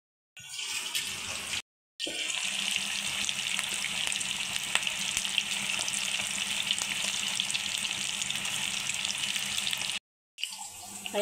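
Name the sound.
chicken pakoda frying in oil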